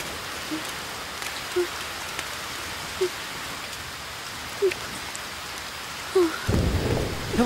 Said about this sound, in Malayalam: മഴ വരുന്നത് പോലെയുണ്ട്, വേഗം പോവാന്ന്.